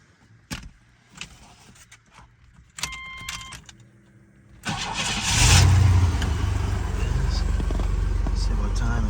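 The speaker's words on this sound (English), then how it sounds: "I'm gonna go ahead and do a cold startup so you can get an idea of what it sounds like" A 1994 Chevrolet S10 Blazer gets a cold start: keys jangle and the starter clicks, then the engine cranks and catches about halfway through, settling into a loud, steady, rough idle close by.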